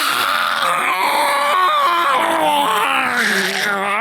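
Several players in a tabletop roleplaying game session scream on cue, giving loud overlapping wails and groans of varying pitch. The screaming continues without a break, close to the microphone, with no ordinary talk.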